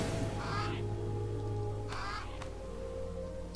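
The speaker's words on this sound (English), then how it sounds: "Zuki, you can actually cast some crows, so we can get some scouting going." Crows summoned as a scouting spell in the fantasy strategy game Age of Wonders III give two harsh caws about a second and a half apart, over a steady low hum of game ambience.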